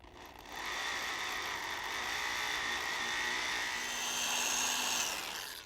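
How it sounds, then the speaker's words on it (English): Drill boring a pilot hole down the center of a bolt during a 1966 Ford Bronco build, a steady continuous whirring grind lasting several seconds, close and moderately loud with no talking. "drill a pilot hole down the center of the bolt"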